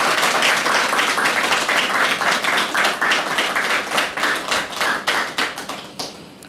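A studio audience claps in steady, dense applause that gradually thins and fades toward the end, with no voices over it.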